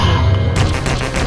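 A Tesla gun fires in a video game with a dense, continuous crackling electrical discharge and booming bursts, loud and close for about a second.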